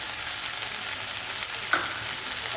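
Sandwich filling with mixed herbs and pepper powder sizzling in a hot pan while being stirred, a steady crackling hiss with a single sharp clink of a utensil near the middle.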